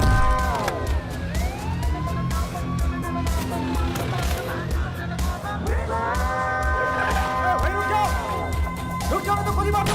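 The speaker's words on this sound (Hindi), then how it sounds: "एम्बुलेंस बुलाओ।" A wailing emergency siren sweeps up and down repeatedly in a dubbed South Indian action movie scene, fairly loud and continuous, with traffic and other noise beneath.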